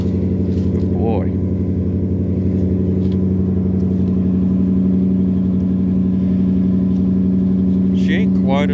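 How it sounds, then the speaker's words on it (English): A new riding mower's engine and exhaust run at a steady, loud, low drone with a rich exhaust note, holding an even pitch throughout with no pauses. "She ain't quite as loud as I was hoping for, but she's still got a nice exhaust note"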